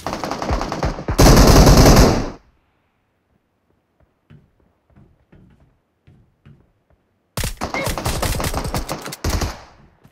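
Automatic weapon fire from the mobile game PUBG Mobile comes in two loud rapid bursts, one short at the start and a longer one near the end, with faint scattered distant shots in the quiet gap between.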